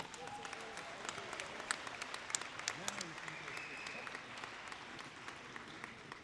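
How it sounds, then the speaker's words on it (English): Junior high awards ceremony crowd applauds the coaching staff, fairly faint, even clapping from a large room, with scattered voices and a brief murmur under it. "So let's give these gentlemen a big round of applause."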